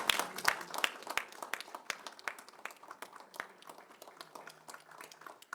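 Audience at a city council meeting in Columbia, Tennessee claps, sparse sharp individual claps scattered across a quiet room, fairly faint and thinning over time.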